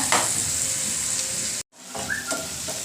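Onion and tomato frying in a pan for egg and potato masala, a steady close sizzle with light stirring clinks, briefly cut off before resuming.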